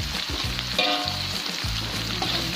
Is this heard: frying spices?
yes